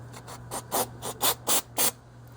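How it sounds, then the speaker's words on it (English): A rag soaked in brake cleaner rubs across the drum brake shoes of a 2011 Toyota Yaris in about six close scraping strokes that grow louder, over a low steady hum. "I just kind of wipe off the shoes if you got any dirt or grease on them"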